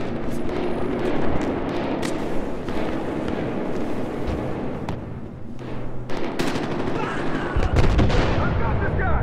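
Gunfire in the Battlefield Hardline multiplayer video game: dense bursts of shots and heavy booms over a constant roar of battle, with voices talking and shouting over it.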